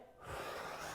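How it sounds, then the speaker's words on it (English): Breathing during a bodyweight side plank oblique exercise: a single sharp, close inhaled gasp that swells into a steady breathy rush and holds for the rest of the moment, with no talk. "And I'm breathing out as I do that."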